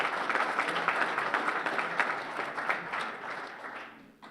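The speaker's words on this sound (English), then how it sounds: "I want to just give a round of applause for our teachers" Dense applause from an audience at a live awards show honoring teachers, steady and loud for most of the stretch before thinning out toward the end.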